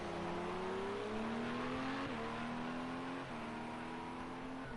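Race cars at the Spa endurance race roar steadily past on the final lap, engine notes rising and shifting pitch as several cars cross the line in quick succession, loud and continuous with no talk.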